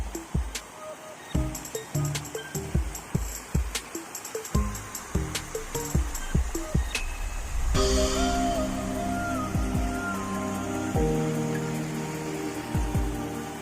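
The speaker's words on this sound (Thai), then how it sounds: "ชมน้ำไหล" Water flows and splashes through channels between terraced rice fields in Chiang Mai, a continuous rushing wash with irregular drips and splashes over it, close by and fairly loud.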